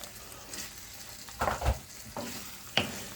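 Water poured into thick gravy made with gravy granules in a hot pan, giving a soft sizzle with faint stirring and a couple of brief utensil clinks, quiet and close.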